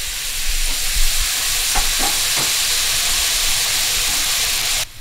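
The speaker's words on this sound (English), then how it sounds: "while our meatball is cooking" Meatballs fry in a pan with a steady loud sizzle and hiss throughout, a few soft stirring knocks partway through, and the sizzle drops off abruptly right at the end.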